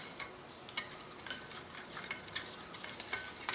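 Steady scraping and light clinking of a utensil stirring an egg and sugar mixture in a bowl, repeated in an uneven rhythm, close and fairly quiet.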